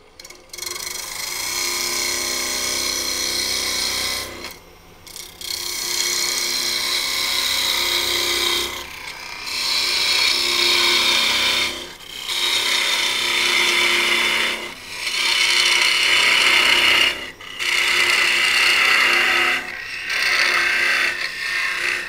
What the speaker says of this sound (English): All right, parting tool.